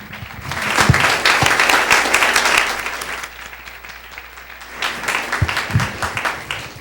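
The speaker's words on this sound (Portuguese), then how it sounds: "Aplaudamos esse Deus." A church congregation applauds at a praise and worship service, loud sustained clapping that dips briefly midway and then swells again, close and dense.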